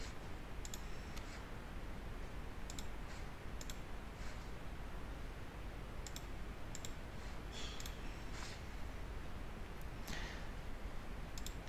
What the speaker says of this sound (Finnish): Otan seuraavan ja klikkaan animaatiota.